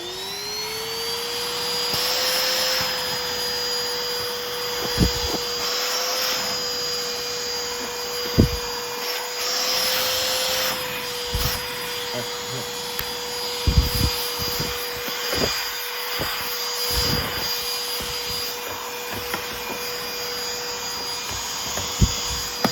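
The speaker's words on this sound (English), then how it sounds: "Don't I have a little portable vacuum?" A small portable vacuum runs steadily with a constant whine, close and loud, punctuated by scattered knocks and clatters, with no talking.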